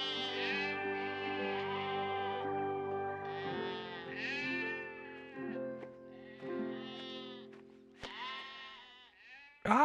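Sheep bleat repeatedly in long, wavering calls, several overlapping, fairly close and loud, with a brief sharp knock near the end.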